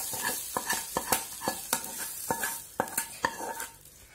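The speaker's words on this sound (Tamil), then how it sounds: "இதை நல்லா மிக்ஸ் பண்ணிக்கோங்க." Spoon stirring sautéed onions and spices into thick dosa batter for kara paniyaram, a run of sharp wet scraping strokes in a steady rhythm, close and fairly loud, with no voices.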